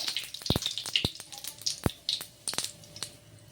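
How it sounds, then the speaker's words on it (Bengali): Bay leaves and cumin seeds sizzle in hot oil in a pan while ghugni is being made, giving a crackling, spattering fry with sharp pops scattered irregularly over a faint steady hiss. "তেলটাও গরম হয়ে গেছে এবার দিয়ে দেব দুটো তেজপাতা তারপর দিয়ে দেবো অল্প সাদা জিরে"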